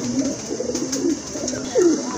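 Pigeons coo softly nearby, three low rolling calls spaced out over a couple of seconds.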